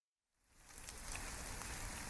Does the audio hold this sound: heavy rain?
yes